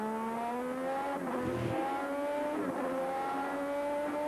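Formula One car engine at Spa-Francorchamps from onboard, a loud continuous high whine climbing steadily, broken by a hard braking moment and a sharp gear change before revving back up.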